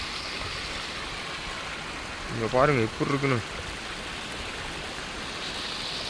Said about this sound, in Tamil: மழை பெஞ்சுன்னா இப்போ தான் சரியான மழை